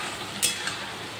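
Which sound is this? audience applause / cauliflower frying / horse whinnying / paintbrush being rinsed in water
cauliflower frying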